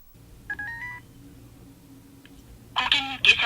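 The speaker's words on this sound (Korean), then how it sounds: "직접 전화 연결을 해보았다" Telephone keypad tones sound as a call is dialed to a counseling hotline, a few short beeps early on, then a quick burst of several tones near the end over a low hum.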